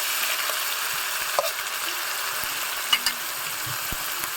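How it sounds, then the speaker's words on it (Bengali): Onion and ginger paste fry as a spice mixture for a home-style fish curry, giving a soft, even sizzle with a few faint stirring clicks and no talk. "এবার পেঁয়াজ বাটা দিয়ে দিব, আদা বাটা দিয়ে দিব। মশলাটা একটু কষিয়ে নিব।"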